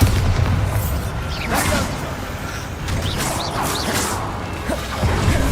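The Bombarda spell going off in Hogwarts Legacy, a dense booming blast with whooshing spell effects and crashes in busy game sound, with brief talk.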